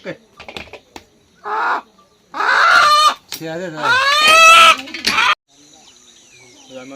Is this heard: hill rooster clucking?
yes